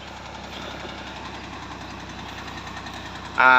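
A Champion 484 four-wheel-drive tractor with a 48-horsepower engine idling nearby, a steady low knocking diesel rumble that holds evenly before a brief louder burst at the end.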